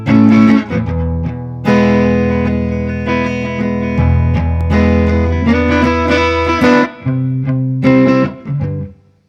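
An electric guitar plays a riff around open E, loud and close, with strummed chords and melodic runs in a bluesy rhythm and no talking over it.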